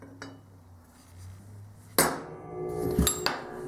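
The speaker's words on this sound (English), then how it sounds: "Put a nice little center punch in it" A hammer strikes a center punch into metal once, giving a sharp close impact, and a few smaller clanks and knocks follow in a quiet shop.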